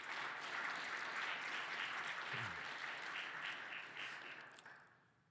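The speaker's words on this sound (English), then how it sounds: "If I ask everybody to give these sponsors a round of applause," Audience applause for event sponsors at a soil and food conference, steady dense clapping from a crowd that holds for about four seconds and then fades out.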